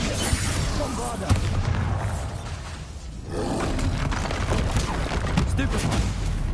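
Spell explosions from Bombarda and Confringo in the Hogwarts Legacy video game, heard as loud continuous booming blasts and roaring rumble with sharp impacts, a brief lull midway, then dense blasts again.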